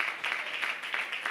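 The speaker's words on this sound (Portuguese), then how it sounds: "dar a sua melhor salva de palmas para Jesus" A church congregation claps for Jesus in a quiet, continuous patter of applause that pulses softly and sounds somewhat distant.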